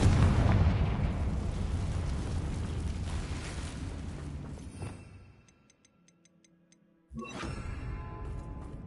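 Confringo blasting spell explosion in the Hogwarts Legacy video game: a loud, rumbling boom that fades over several seconds into near silence with faint ticking, before ambient game sound returns.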